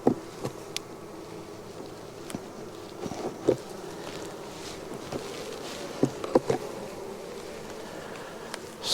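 Honey bees buzz around an open hive during an inspection, a soft, steady drone with individual bees zipping close past now and then, plus a few light knocks and taps.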